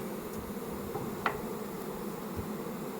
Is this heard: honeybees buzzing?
yes